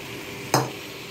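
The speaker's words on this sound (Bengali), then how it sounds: "এখন আমাদের পরের স্টেপ হলো এই যে ভেজে রাখা আলু আমি এখন দিয়ে দেব। সেদ্ধ করে রাখা সয়াবিন সেটাও দিয়ে দেব।" A spoon scrapes once through gravy as fried potatoes and boiled soybeans are stirred in, a single short, close stirring sound over a faint background hum.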